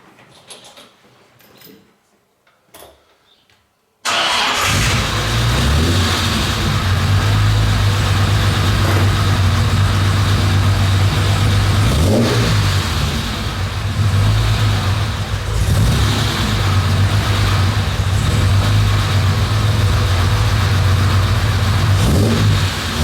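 A 4.2 Jaguar E-Type Roadster cranks and fires after a few quiet seconds of handling noise, then idles loud and close with a deep steady rumble and occasional blips of revving.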